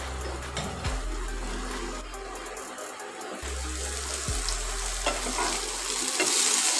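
Okra (ladies finger) stirred and fried in a pan, giving a continuous close sizzle with rough scraping stir strokes and a low clatter at intervals.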